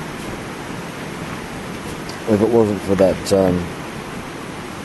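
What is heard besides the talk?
strong wind blowing around a hammock campsite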